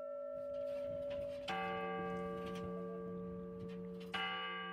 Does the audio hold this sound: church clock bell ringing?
yes